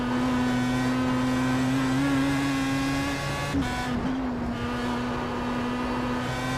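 A Pro Mazda race car in the iRacing video game at the Nürburgring holds a steady high engine whine, then briefly blips as it downshifts into fourth gear for a corner and settles to a lower, rougher note.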